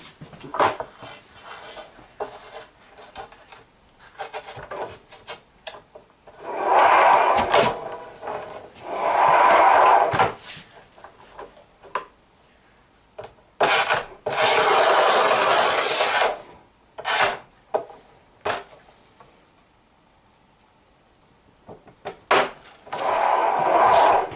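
Manual Haisser tile cutter scoring and snapping a thin porcelain tile strip: several rough scraping bursts followed by sharp short clicks and snaps, near and fairly loud, with quiet gaps between.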